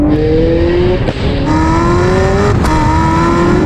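Bugatti Chiron hypercar heard from inside while accelerating hard, its engine note climbing steadily and broken by two sharp, loud gear-change cracks.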